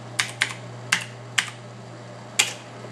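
Root password typed on a computer keyboard in an openSUSE setup dialog: five sharp, separate key clicks at uneven intervals, close by, over a low steady hum.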